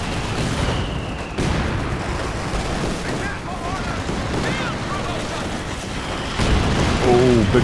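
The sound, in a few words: gammon bomb explosion in Company of Heroes 2 video game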